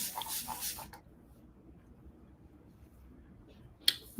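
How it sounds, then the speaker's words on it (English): Short bursts of hair product sprayed from an aerosol can up close, then a pause of near silence, ending with a sharp click or tap. "Just gonna spray it on the front."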